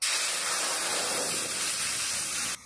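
Two cups of water hit a hot wok while tamarind is being cooked down, giving a loud, steady burst of steam hiss and spray that runs without a break and then cuts off abruptly near the end.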